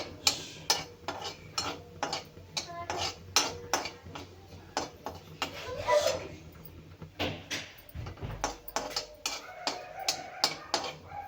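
Cumin seeds roast in a pan with a run of light, irregular clicks and taps of a spoon against the metal, fairly close and soft, under faint background hum.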